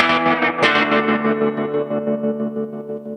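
Electric guitar played through an Electro Harmonix Oceans 11 reverb pedal set to tremolo, a sharp picked attack ringing into a sustained, washy chord that pulses gently as it decays, loud and alone.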